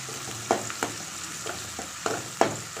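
Onions, cloves and a bay leaf sauté in hot oil with a steady low sizzle, broken by a few sharp scrapes and clinks of stirring spaced about a second apart.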